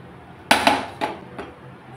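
Roasted spices, including black cumin (kalo jira), drop into a mixer grinder jar with a few sharp clinks and taps, one strong hit followed by three lighter ones, close and alone.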